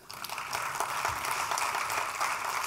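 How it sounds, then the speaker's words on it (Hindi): Audience applause at an awards ceremony: a dense, continuous patter of many hands clapping in a hall, swelling quickly and holding steady, mid-distance with no voices over it. "बस तो उनके लिए भी एक तालियां बजाइए"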